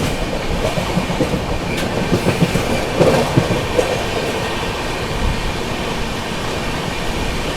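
Karnataka Sampark Kranti Express train running steadily on rails, with continuous rumble and rhythmic clickety-clack of wheels over track joints, close and loud throughout, with no talking.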